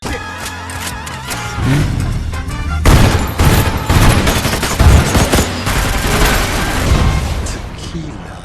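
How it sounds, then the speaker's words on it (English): Rapid bursts of gunfire from the film Baby Driver crackle loudly alongside booming explosions, dense and continuous over a music-like background. "with the gunshots and then the explosions"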